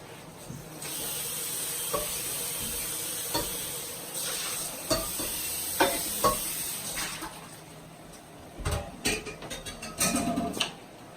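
Shrimp hit a hot cast iron skillet already holding browned sausage, giving a steady bright sizzle with occasional scraping and clattering stirs that grow busier near the end.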